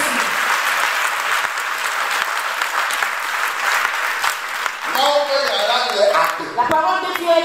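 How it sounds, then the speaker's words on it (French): A church congregation claps and cheers loudly and steadily for several seconds, then a voice speaks over the fading applause. "Que quelqu'un acclame ceci."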